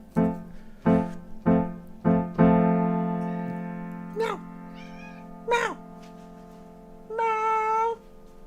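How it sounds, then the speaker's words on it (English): Several sung notes with a held tone over piano improvisation, followed by a few short, high, wavering meows from a cat, close by. "Hear my cat? He's trying to sing along."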